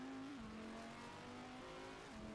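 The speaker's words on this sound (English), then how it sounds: "You can hear in the background of this unusual camera shot the thundering V10 engine of the Dodge Viper" A Dodge Viper V10 engine drones steadily in the distance throughout, its pitch shifting slightly as it climbs and drops with gear changes during a virtual 24-hour race broadcast. The sound stays faint but continuous.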